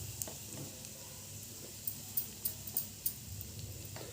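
Red chilli powder and spices frying in hot oil for a dhaba-style soya chunk curry, a soft steady sizzle with a few sharp ticks and light stirring clicks, close and quiet, no voices.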